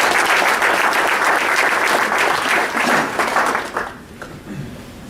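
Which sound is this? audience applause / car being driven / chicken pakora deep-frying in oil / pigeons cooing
audience applause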